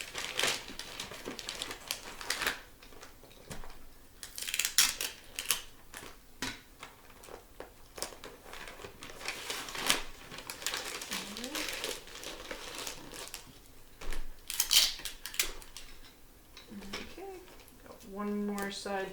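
Paper crinkles and crumples in bursts as a sheet is wrapped and folded around a geometric model, with sharp rustles and creases coming and going at close range under a steady murmur of background noise.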